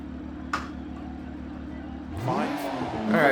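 A BMW M2 Competition in Dirt Rally 2.0 holds a steady engine drone, then revs up sharply near the end, its pitch climbing in a loud rising sweep close by.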